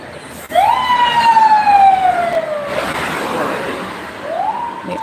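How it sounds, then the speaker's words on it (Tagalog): Ambulance siren wailing in rising and falling sweeps, fairly loud and near, fading briefly before another upward sweep starts, with no talking. "May ambulansya."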